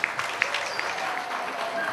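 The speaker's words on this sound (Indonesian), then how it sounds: "kita beri tepuk tangan yang meriah" Applause from an outdoor community event audience in Gunungkidul, a steady, full wash of clapping lasting throughout, with a few sharper claps near the start.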